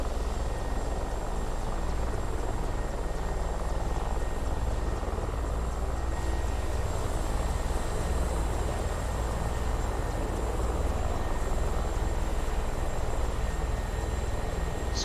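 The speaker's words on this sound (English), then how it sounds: "Mando's still up in the air. Still able to fly his aircraft." A helicopter-like aircraft engine in a Santa vs Grinch PvP video game holds a steady, continuous whirring drone for the whole stretch, fairly loud with no speech over it.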